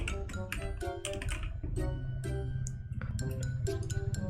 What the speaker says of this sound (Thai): นี่ครับพิมพ์ตามนี้นะครับ f a l s e